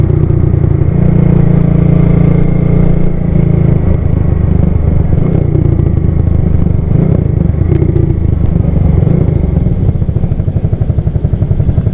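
A Yamaha Lagenda motorcycle with a spec 57 engine rides slowly in hot weather, its loud, steady low engine drone running close and continuous throughout with no voices.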